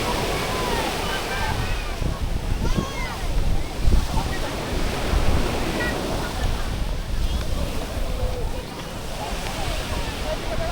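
Ocean waves rolling onto the beach at Bacnotan, La Union, a continuous close surf roar with wind buffeting the microphone and a voice speaking over it in places.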